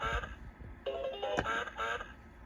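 A LeapFrog Fridge Farm magnetic toy (2007 version) plays a synthesized duck sound, faint and electronic, in a few short nasal quacking bursts with a brief click between them.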